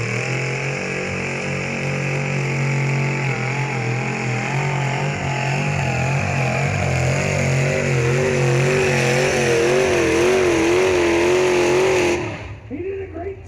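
A drag racing car at a night event pulls down the strip with a loud sustained engine roar and rising pitch that cuts off abruptly near the end, with an announcer talking over it.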